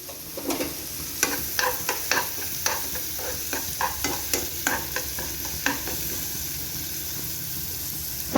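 Onion fries in a pan while carrot paratha is being made, giving a steady sizzle broken by repeated scraping stirs.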